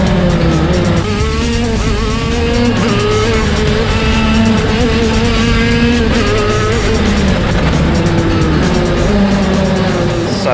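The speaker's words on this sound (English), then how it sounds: "I'm a lot more used to the kart now, a lot more aggressive on the throttle, a lot more aggressive on the cornering" A KZ shifter kart engine screams at high revs on a track, its loud continuous note rising and falling through gear changes and corners with no pauses.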